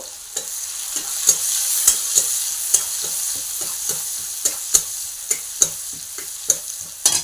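Fish oil fries in a pan with raw onion while a utensil stirs it, scraping in regular strokes roughly every half second over a constant bright sizzle, close and fairly loud, no talking.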